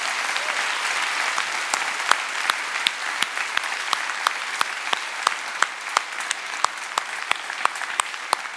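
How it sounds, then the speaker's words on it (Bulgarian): An audience applauds at a talk event, a dense, steady patter of many hands clapping with a few sharper individual claps, moderately loud and sustained without voices. "Още веднъж аплодисменти за Стефан Кънев."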